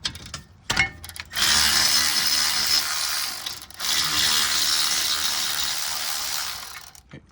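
A ratchet fitted with a 7 mm Allen socket loosens a rear brake caliper bolt on a 2019 Mercedes GLC300, giving two loud sustained bursts of rapid clicking separated by a brief pause, close up.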